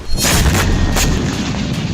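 Explosions from Israeli airstrikes near the Iranian embassy in Damascus: several loud, heavy blasts boom one after another in quick succession, with rumbling reverberation between them and no talking.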